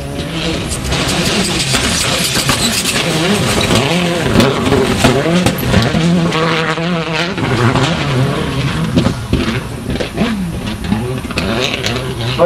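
A rally car on the gravel stage of the 2011 Barbórka Rally at Bemowo passes with a loud, varying engine note that climbs and drops as the revs change, while a commentator talks over it.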